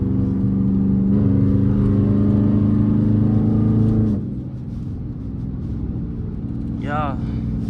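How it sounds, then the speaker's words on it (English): A Dodge Charger R/T engine pulls hard under acceleration, a loud rising drone with climbing harmonics that cuts off around four seconds, then settles into quieter road rumble with a brief whine near the end. "I'm gonna kind of let the engine speak for itself."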